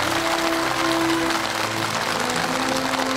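A television studio audience applauds steadily as a guest, the father of a man seeking village work, is invited onto the stage; broad clapping fills the room evenly with no one speaking over it.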